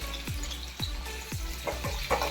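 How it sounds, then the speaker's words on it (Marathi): Finely chopped onion frying in a pan over a raised gas flame, a continuous sizzle broken by several soft thumping stirs spaced through the clip, with no voices. "बारीक चिरलेला आपण कांदा टाकूया."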